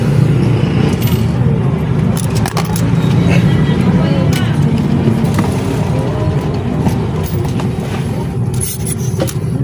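A car engine idling steadily after starting, a close, continuous low rumble with mechanical clatter and occasional sharp ticks, someone speaking over it.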